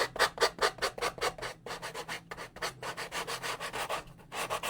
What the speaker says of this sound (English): that way it sands down a bit quicker